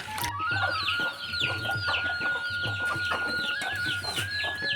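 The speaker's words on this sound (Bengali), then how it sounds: "এখানে কিছু ছোট মুরগি আছে" Young chickens on a farm clucking and peeping steadily in a busy overlapping chorus, close and moderately loud with no talk.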